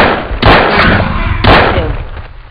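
Two sharp gunshots from a firearm in the video game Jurassic Park Trespasser, each a loud broadband crack around half a second and one and a half seconds in, with fading reverberant tails.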